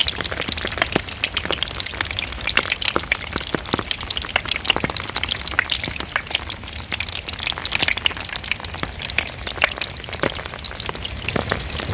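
Rain striking a cheap surf walk board makes a loud, continuous crackle of sharp, irregular pops and snaps, close up and sizzling like food frying, with no talking.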